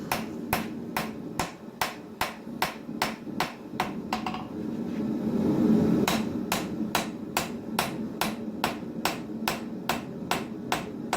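Hammer blows forge bevels into a full tang knife, sharp metallic strikes falling in a steady, quick rhythm of about two per second, with a brief break midway over a low background rumble; close and clear, no talk.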